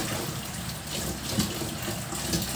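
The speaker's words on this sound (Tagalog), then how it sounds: "hugasan natin yung gulay para susunod na yung mga kangkong" Tap water runs into a sink while kangkong is washed, a steady close splashing stream with small bursts of handling.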